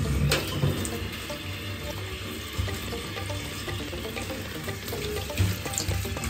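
Water is poured to rinse a cat during a bath, giving a continuous close splashing and trickling with a few louder spills.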